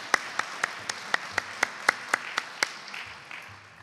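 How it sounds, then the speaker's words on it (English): Sparse, evenly spaced claps from a conference audience honoring its sponsors, faint and thin, as if only a few people clap in a steady beat before the sound fades. "Let's have a round of applause for our 2014 conference sponsors."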